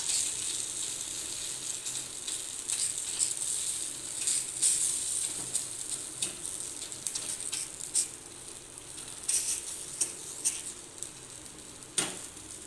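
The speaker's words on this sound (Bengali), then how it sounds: "ছোট্ট একটা ভেজে নিচ্ছি, এটাই আমার লাস্ট।" A small gola ruti flatbread fries in hot oil, giving a continuous bright sizzle with scattered pops and crackles that run the whole time, fairly close and with no voice over it.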